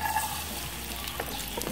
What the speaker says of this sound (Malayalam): ഇതിലേക്ക് തേങ്ങാക്കൊത്തിട്ട് കൊടുക്കുകയാണ്